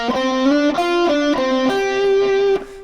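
A short distorted electric guitar lick, a quick run of sustained, overdriven notes ending on a held tone that cuts off abruptly.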